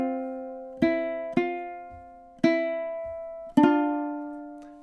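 Ukulele plucking the end of measure 11 of the MASH theme: four separate plucked notes or string pairs, each ringing and decaying, in an even counted rhythm, close and clear with nothing else underneath.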